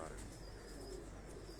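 Tausi pigeons coo softly on a rooftop in Lahore, faint and partly buried in steady low background noise.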